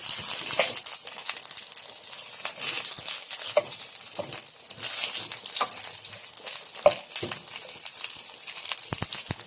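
Onion and garlic fry in a pan, a steady close sizzle and crackle with occasional stirring scrapes and clinks, heard alone without talk.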